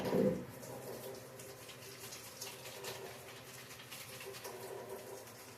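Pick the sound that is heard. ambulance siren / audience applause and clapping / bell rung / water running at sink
water running at sink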